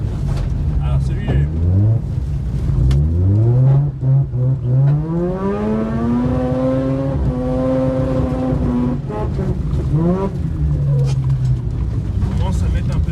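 A Mazda RX8 rotary engine revs and accelerates on ice, its pitch climbing steadily and holding high before dropping and rising again, loud and close throughout.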